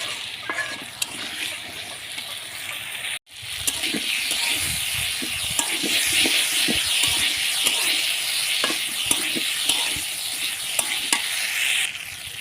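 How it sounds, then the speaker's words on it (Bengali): Long-cut potatoes sizzle and fry in a pan for a thin shol fish curry with tomatoes, giving a steady loud hiss broken by one brief pause and a scatter of scraping stirs. "আলুগুলা দিয়ে কিন্তু খুব ভালো করে কষিয়ে নিতে হবে"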